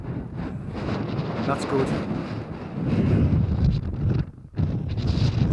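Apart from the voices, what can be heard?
strong wind blowing on a snowy fell, wind noise on microphone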